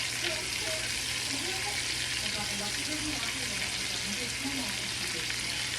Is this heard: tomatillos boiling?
yes